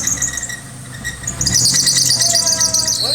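A car engine cranking while its gasoline-soaked drive belts squeal loudly, a shrill, sustained screech that grows louder partway through over a low mechanical rumble.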